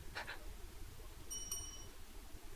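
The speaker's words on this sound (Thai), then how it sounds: "เฮ้ยเสียงกระดิ่ง" Eerie bell chimes inside a haunted old hotel in the horror video game The Medium: a couple of faint ringing tones early on, then a brighter, sustained metallic ring near the middle, over a quiet low hum.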